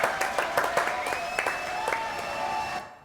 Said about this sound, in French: Applaudissements pour Brigitte Leva, s'il vous plaît